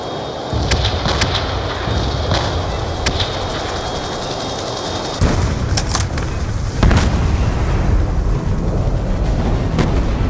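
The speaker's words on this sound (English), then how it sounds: "Airstrike unit inbound. Weapon away." An airstrike explosion hits a ship in Call of Duty: Black Ops 2. A deep rumbling roar builds in stages, with a sudden heavy boom partway through and another surge later, loud and sustained, without speech.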